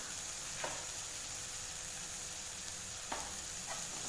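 Tomatoes frying with masala and salt in a pan for onion kurma, a steady soft sizzle with a couple of brief stirring scrapes, no voices.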